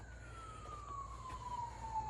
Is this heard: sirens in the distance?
yes